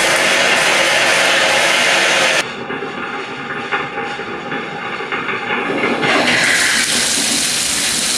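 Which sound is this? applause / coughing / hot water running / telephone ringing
hot water running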